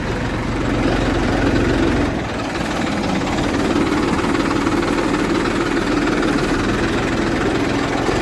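A parked farm tractor's diesel engine idles steadily and close by, a continuous low rumble with a slight knocking throb that dips briefly near the start, with no talking over it.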